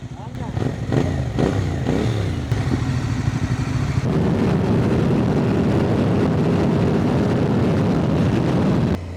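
A 450SR motorcycle revs through its exhaust, sharp throttle blips at first, then a sustained loud engine roar, recorded up close while riding.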